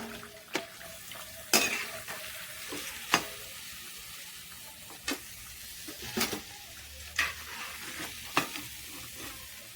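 Aloo bread patties fry in hot oil with a constant soft sizzle, broken every second or so by sharp clinks and scrapes of a utensil against the pan.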